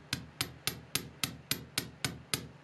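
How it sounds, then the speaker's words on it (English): A small hammer taps a spiral wire earring loop on a hard block, nine crisp, evenly spaced metallic strikes, close and clear with short decays and no talking. "I'm going to hammer down just a couple little hammers to get a nice kind of stiffened and hammered look"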